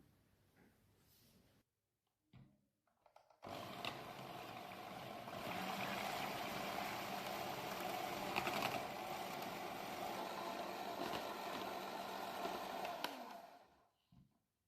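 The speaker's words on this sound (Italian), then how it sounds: "lo mettiamo momentaneamente in frigo e procediamo a montare la panna" An electric mixer whips cream. It starts with a few short bursts, then runs as a steady motor whir for about ten seconds before it stops.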